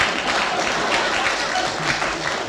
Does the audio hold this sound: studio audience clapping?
yes